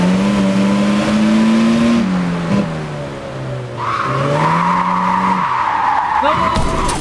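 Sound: car skidding while drifting, video game Japanese Drift Master

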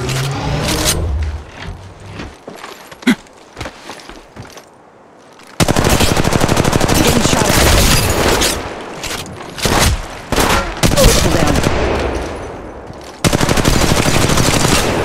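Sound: automatic Mastiff gunfire in Apex Legends Mobile video game

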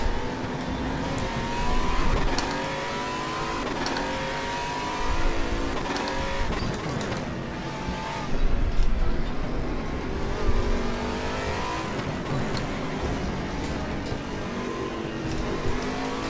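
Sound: Aquila CR1 Sports GT race car engine in RaceRoom video game

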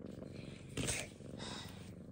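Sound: cat purring

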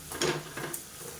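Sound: chopped beetroot sautéing in a pan

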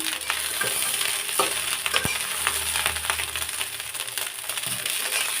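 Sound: stir-frying leftover rice in a pan

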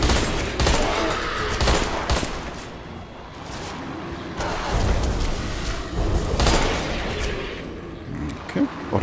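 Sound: gunfire in the video game Deadfall Adventures

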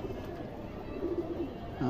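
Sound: pigeons cooing

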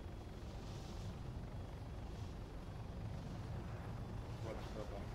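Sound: Hummingbird helicopter in video game Arma 3

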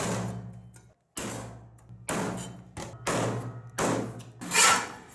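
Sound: chopping pork ribs into small pieces

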